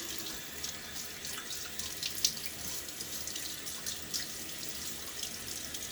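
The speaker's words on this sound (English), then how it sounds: "splash a little bit of water on my face" Water running steadily from a bathroom tap into a sink while a man splashes his face before shaving, a continuous close hiss and patter with a few small splashes and no talking.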